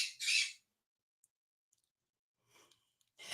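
A pet bird indoors gives two loud, harsh squawks, one at the start and one at the end, separated by near silence with a few faint clicks and rustles.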